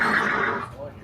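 A horse gives a loud, close whinny at a Walt Disney World attraction, fading over about a second, with a voice heard nearby.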